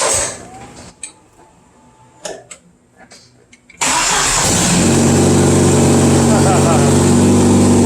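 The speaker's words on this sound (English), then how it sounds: "let's crank it up and see what it sounds like with no muffler" A little 4-cylinder Jeep engine running with no muffler cranks briefly, then catches and settles into a loud, raw, steady roar, preceded by faint voices and clatter.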